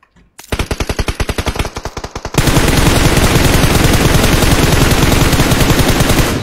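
Rapid automatic gunfire in a battle royale shooter game, a rhythmic burst of distinct shots followed by a faster, denser stream of fire, loud and close with no talk.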